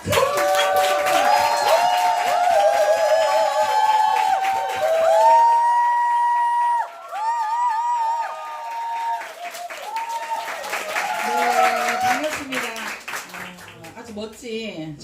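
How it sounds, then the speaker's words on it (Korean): An audience claps and cheers for a speaker coming on stage at a business event. Loud, sustained applause eases midway and then swells again, with some voices mixed in. "큰 박수 부탁드립니다."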